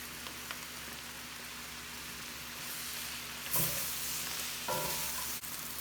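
Bacon sizzling in a pan with fried cabbage, a steady close frying hiss broken by a couple of brief louder bursts as the pieces hit the hot fat, with no talking.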